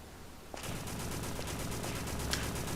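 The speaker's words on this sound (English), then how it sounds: "That's the sound of gunfire" Sustained rapid gunfire from sentry turrets in the video game Extermination erupts after a brief click, a dense rattling burst that continues steadily and loudly to the end, with no voices.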